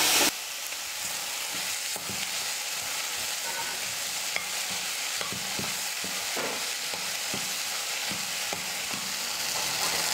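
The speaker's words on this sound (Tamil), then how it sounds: "தக்காளி வந்து நல்லா வதங்கி மசிஞ்சு வந்துருச்சு பாருங்கள்." Onions and tomatoes sautéing in a pan for a South Indian chutney give a steady, close frying hiss, broken by repeated light scrapes and taps of a stirring spoon over about ten seconds, without speech.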